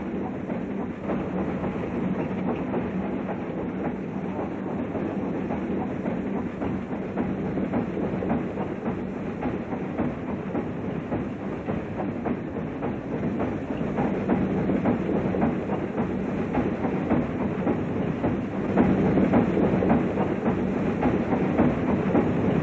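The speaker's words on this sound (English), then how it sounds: "mammoth DD52 arrived at the wayside station of Mallet," A DD52 steam locomotive hauls a train on an Indonesian railway in 1974, with a steady rumbling roll and rhythmic clickety-clack of wheels that slowly grows louder toward the end.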